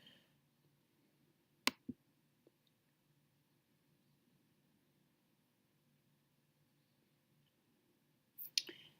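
A computer mouse gives two quick, faint clicks in a quiet room, followed several seconds later by another brief pair of clicks, each sharp and isolated.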